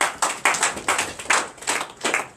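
Congregation clapping in acclamation during a night deliverance and prophecy church service, a steady series of sharp rhythmic hand claps in bursts of roughly two per second, fairly close and alone without talk.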